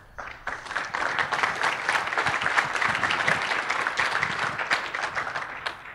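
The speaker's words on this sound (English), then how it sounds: "Let's give a round of applause for Jason" A conference audience applauds Jason Cohen, founder of Smart Bear and WPEngine, after a Q&A session, with sustained even clapping from many hands that swells quickly and holds for about six seconds.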